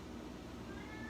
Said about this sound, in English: The cat's driving me crazy.